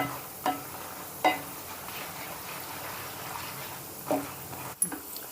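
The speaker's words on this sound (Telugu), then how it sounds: "ఇప్పుడు ఈ పప్పులని దోరగా వేపుకుందాం" Urad dal and other lentils roast in a pan for pulihora, giving a faint, steady sizzle with occasional soft scraping stirs, close by and quiet.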